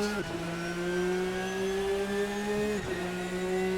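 RSS GTN race car in Assetto Corsa holding high revs with a steady, loud engine drone that briefly dips at a gear change and then climbs again, with a faint whine layered over it.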